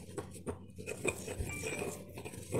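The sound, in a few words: mortar and pestle mixing herbal pill mass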